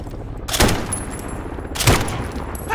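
Two bursts of close, loud automatic gunfire in Call of Duty: Modern Warfare, each a rapid crackling volley about a second apart from the other, over steady background battle noise.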